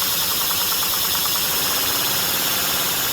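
A home-built inline-4 engine idling on compressed air from a compressor, a dense steady hiss with a fast rapid pulsing chatter throughout, loud and close with no pauses.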